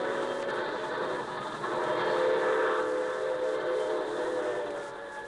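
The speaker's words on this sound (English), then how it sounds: "That's the actual sound of the train that runs in front of the Eisenhower home." A train rolls past the Eisenhower home in Abilene, Kansas, its horn sounding in a sustained, swelling blast over the rumble of rail cars, fairly loud and near.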